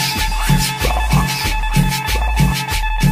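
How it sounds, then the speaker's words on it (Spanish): A cumbia guitar plays a bouncing, repeating pattern over steady bass notes and percussion in a full, loud dance band mix. "La guitarra."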